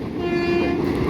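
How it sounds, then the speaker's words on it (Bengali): A train horn blares in a steady, loud tone as the train approaches, sounding continuously and close throughout. "এদিকেও ট্রেন আসছে"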